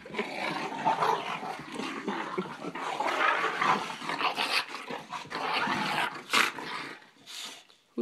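Dogs bark and growl excitedly after waking up, a busy run of close, loud yaps and snarls with short pauses, continuing throughout with no speech.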